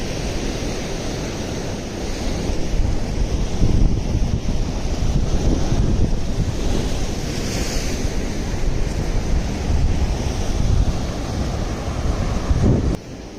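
Sea waves at Harihareshwar beach roll in as a steady, loud wash of surf, with wind buffeting the microphone throughout and no voices.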